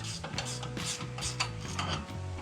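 A ratchet wrench tightening bolts on a camper's spare tire mount, with quick repeated clicking and rasping strokes in an uneven rhythm, close and fairly quiet, no talk.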